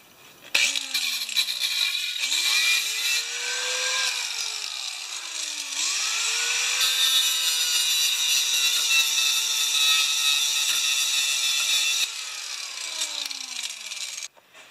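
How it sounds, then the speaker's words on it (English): A grinder works over welds on a Honda Quadra Cut mower, whining loudly and steadily with pitch sagging and recovering as it bites the metal, in a few long passes with no talking. "we need a new stone for the grinder"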